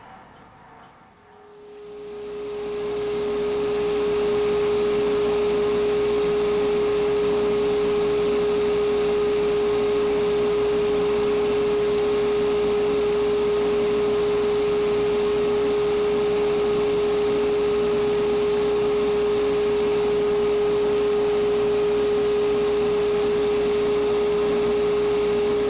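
A wood lathe spinning a log at about 140 RPM, a steady loud motor hum with a clear constant whine, starting up at the beginning and then running evenly, no talk.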